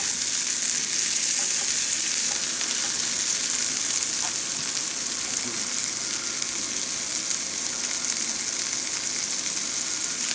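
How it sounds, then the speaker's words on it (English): Steady, crackling sizzle of food frying in butter in a pan, continuous and close, with faint clinks now and then. "Now I just got them frying just to get them good and brown."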